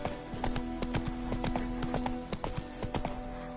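Hooves of the horse Roach beat a quick, steady clip-clop rhythm in The Witcher 3, close and clear over a low ambient hum, with no voices.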